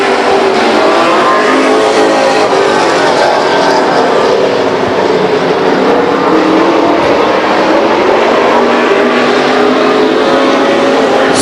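Stock race cars roar around the Stockton 99 Speedway oval, engines at full throttle out of turn 2 and deep into turn 3, a loud continuous blend of several racing engines with no break.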